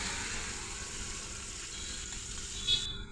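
Sardines frying in oil in a pan give a steady, soft sizzle that holds evenly throughout, with a brief brighter crackle near the end.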